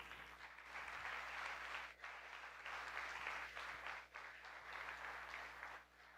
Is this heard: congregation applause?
yes